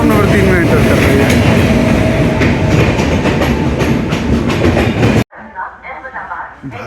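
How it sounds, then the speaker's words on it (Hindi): Swatantrata Senani Superfast Express, running from Jaynagar to New Delhi, rolls loudly into platform 3 with dense rumbling and clattering wheels, close by, before the sound cuts abruptly to quieter station ambience. "स्वतंत्रता सेनानी सुपरफास्ट एक्सप्रेस जयनगर से न्यू दिल्ली के लिए प्लेटफॉर्म नंबर 3 में एंटर कर रही है"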